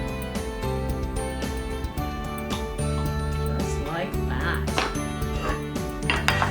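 A lemon pecan shortbread icebox cake is sliced and served onto a plate, with clinking cutlery, scraping and the clatter of dishes beneath a person talking, close and fairly soft.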